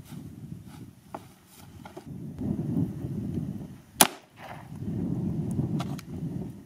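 A single sharp gunshot strikes a Chinese-made ballistic armor plate during live-fire testing, one loud crack standing out mid-clip over a steady low outdoor rumble.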